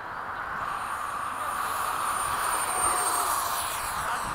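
A Freewing 70mm F-35 RC model jet flies past with a steady, loud whooshing whine from its electric ducted fan, holding fairly even in level and pitch, with no talking.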